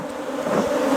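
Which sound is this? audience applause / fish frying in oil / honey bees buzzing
honey bees buzzing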